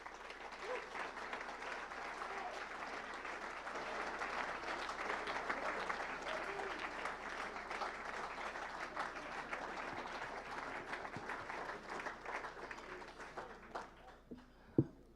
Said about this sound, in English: I'd like another round of applause for Brother Thomas Steffen from Sigma Triton